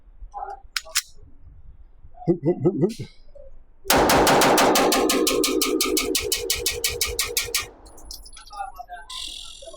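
Sig Sauer P211 GTO pistol emptied in a fast, steady string of about twenty loud, close shots lasting several seconds, with quieter handling noises and brief talk before and after.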